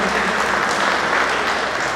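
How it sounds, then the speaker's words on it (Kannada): Loud, dense applause fills the hall from an audience at a police arts and award ceremony. The clapping is steady and close throughout, with no one speaking. "ಜೋರದ ಚಪ್ಪಾಳೆ"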